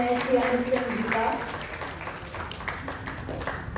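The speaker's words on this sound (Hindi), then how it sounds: "एक बार जोरदार तालियों के साथ स्वागत करते हैं श्री अमित सिंह जी का।" Audience applause at an excellence awards ceremony in Delhi, a dense steady clapping from a crowd while an announcer speaks over it through a PA system.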